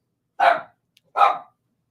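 A dog outside the room gives two sharp barks, evenly spaced and somewhat muffled, in an otherwise silent space.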